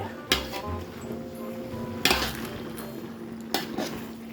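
A metal spoon knocks against a cooking pot while vegetables for kare-kare are stirred, with three separate clanks spread over a low, steady kitchen hum.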